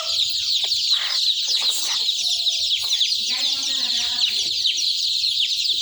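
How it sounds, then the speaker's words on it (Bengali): Chickens cluck and murmur close by as a hen feeds, with soft repeated clucks and a few short calls over steady background hiss and faint birdsong. No one speaks. "একটা মুরগি আছে, মুরগি খাদ্য খায়"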